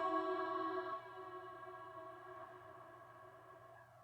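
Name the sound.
large space reverb tail on vocal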